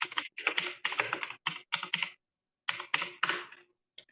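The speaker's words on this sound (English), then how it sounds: "My clickety typing." Quick clicky typing on a computer keyboard comes in close, crisp bursts of keystrokes, with a short pause in the middle before a second run and one final tap.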